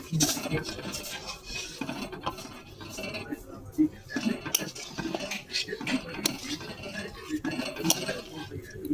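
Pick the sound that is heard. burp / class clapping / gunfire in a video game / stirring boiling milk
stirring boiling milk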